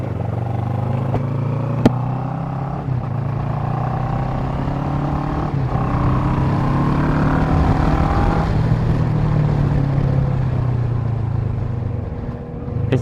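A motorcycle engine drones loud and close while riding, its pitch rising and falling as the rider shifts through speed changes, with a constant rush of wind behind it.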